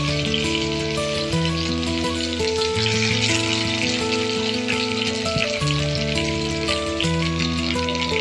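Nigella seeds and chopped onion fry in hot mustard oil, giving a loud, steady, close sizzle and crackle that carries on without a break over the background music.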